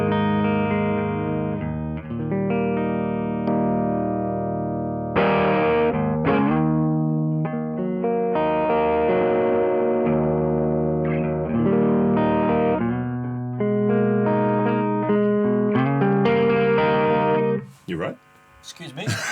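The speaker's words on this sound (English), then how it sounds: "Let's do the Jazzmaster or JM style, which again clean sounds a bit like this." Clean electric guitar with a Jazzmaster-style pickup through an amp and a pedal plays a close, continuous string of chords and single notes with some sustain. It briefly stops near the end, then a few final notes sound.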